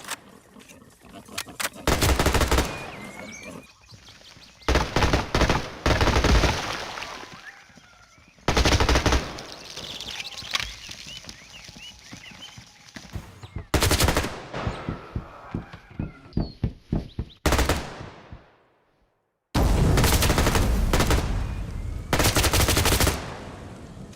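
Gunfire in a realistic first-person shooter video game: loud bursts of automatic fire in several separate volleys, with quieter single shots and ambient game sound between them and a falling swoosh before the last bursts.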